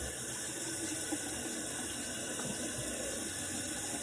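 Water runs from a tap in a steady, close, hissing stream to wet a rag, continuous and even throughout with no voices.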